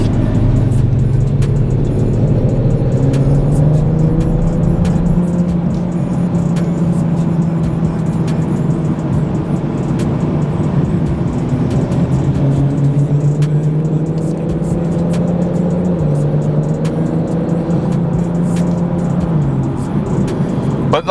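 A 2021 BMW M440i pulls hard under acceleration, with a loud, deep engine drone that climbs through the revs, briefly eases at a gear change, then builds again, heard from inside the car with no talking.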